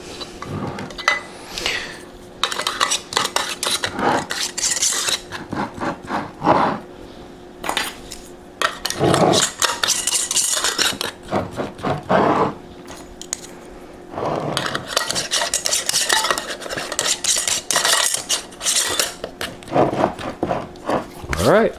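Metal canning lids are spun onto glass jars of raw corn, giving repeated clinks, scrapes and light rattles close by in short bursts, while a person talks throughout.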